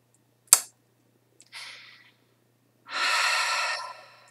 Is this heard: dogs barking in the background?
no